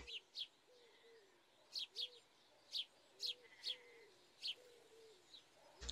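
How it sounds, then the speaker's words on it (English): Birds chirp in the Roblox game Space Sailors, short bright tweets repeating every half second or so over a quiet low hum, with soft cooing notes beneath. "Do I hear birds?"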